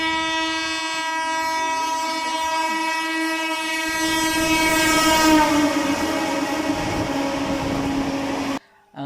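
A passing train sounds a loud, sustained horn over the rumble and rattle of its wagons. The noise swells midway as it goes by and then cuts off abruptly near the end.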